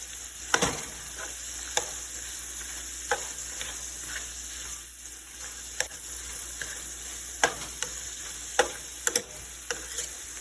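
Ground meat and onions fry in a pan with a continuous sizzle, while a utensil scrapes and taps against the pan in sharp, irregular clicks.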